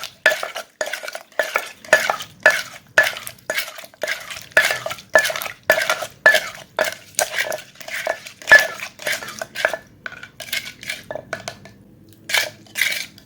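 Rhythmic wooden pestle strikes pound a spicy Thai squid salad in a mortar, sugar being worked in, a steady close series of roughly two thumps per second with no voices.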